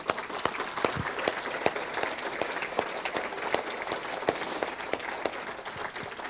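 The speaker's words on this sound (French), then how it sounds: "Je pense qu'on peut vous applaudir très fort pour cela." An audience at a mayor's New Year address to residents breaks into continuous applause, a full hall of clapping hands with a few sharper individual claps standing out, steady throughout with no one speaking.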